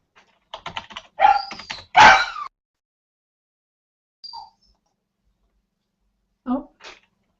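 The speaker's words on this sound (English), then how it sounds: "Sorry about the dog." A dog barks indoors in a few sharp, loud yaps close together near the start, followed by a couple of faint short sounds after a long quiet stretch.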